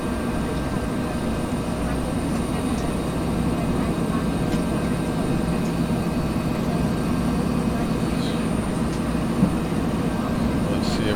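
A Bell 412 helicopter in the X-Plane 11 flight simulator drones with a steady, dense rotor and turbine rumble that holds even and unbroken throughout, with no voices heard.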